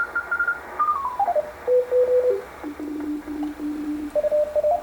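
Continuous-wave Morse code on shortwave radio around 2 to 4 MHz sounds as a steady tone that slides and steps between pitches, pulsing in short keyed bursts over a faint hiss of static.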